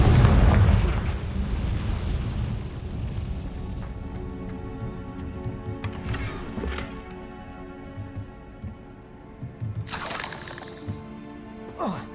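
In the Hogwarts Legacy video game, a Confringo fire spell bursts with a heavy booming explosion at the start, then fades into a rumbling tail beneath a sustained musical score, with sharp bright crackles near six and ten seconds.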